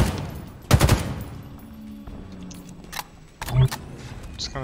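A grenade blows up in a first-person shooter video game: a loud, close, broadband burst near the start and a second thumping blast a few seconds later, with quieter game ambience and scattered gunfire-like crackles between them.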